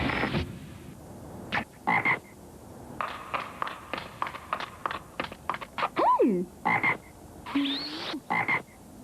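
Frogs croak in a staggered series of short, fairly loud calls with brief pauses between them, a couple of the croaks rising and sliding in pitch, with no other sounds around them.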